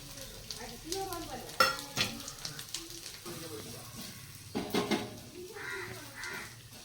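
Tempering sizzles and fries in a pan for jackfruit payasam, a steady crackling hiss with scattered stirring clinks and some bird calls in the background, while people talk over it.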